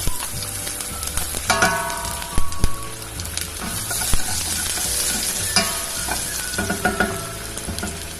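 Garlic sizzling loudly in a hot pan, with a spatula scraping and clanking as it is stirred, continuous frying hiss throughout.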